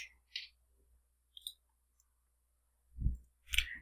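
A couple of crisp, close computer mouse clicks, short and faint, with brief quiet gaps around them.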